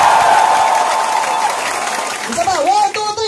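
Crowd clapping on cue at a Filipino AIM Global seminar, a loud burst of group applause that tapers off before voices break in and talk over the tail.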